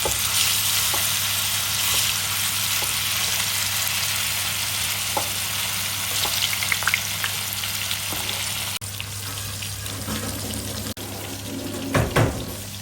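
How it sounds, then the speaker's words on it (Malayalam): Fish frying in hot oil for a fish biryani, giving a steady, fairly loud broadband sizzle that runs the whole time, with a few faint clinks and a brief dip and bump near the end. "അതിൽ ചൂടായിട്ട് ഫിഷ് പൊരിക്കാനും"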